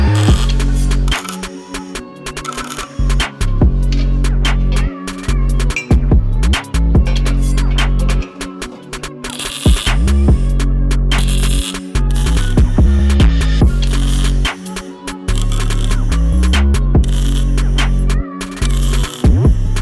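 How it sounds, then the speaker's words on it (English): Electric welding runs around the perimeter of a profile-pipe pull-up bar, a loud continuous crackling buzz with a strong low hum, sustained close-up with brief breaks and surges throughout. "Now you can carefully weld it around the entire perimeter."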